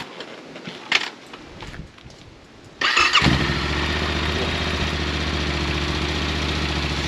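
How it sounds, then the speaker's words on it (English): A motorcycle engine, fresh from an oil and filter change, fires up abruptly after some quiet shuffling and settles into a steady, loud idle with an even mechanical chatter. "Such a sweet motor."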